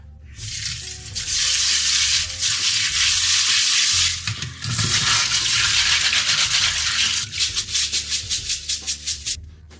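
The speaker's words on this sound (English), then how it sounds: "First, wash the red beans in water." Azuki red beans being washed in water, with steady loud swishing and rubbing of beans and water close by, ending in a run of rhythmic scrubbing strokes.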